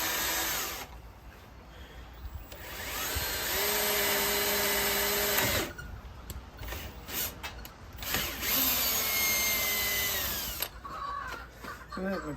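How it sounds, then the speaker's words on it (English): Power drill boring a hole for a pine knot handle on a handmade Bowie knife, with several long, loud, close whining bursts separated by brief pauses. "Get this other hole drilled."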